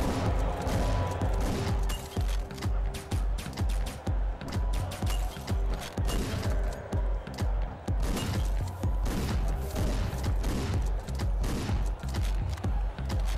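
Shotgun blasts and chaotic combat sounds from the Hotline Miami video game pound loudly and continuously over a driving, heavy game soundtrack, with dense repeated bursts throughout.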